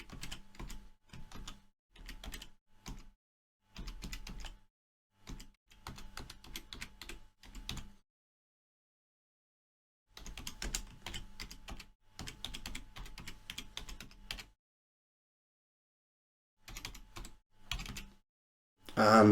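Computer keyboard typing in several clusters of quick, close key clicks, broken by silent gaps.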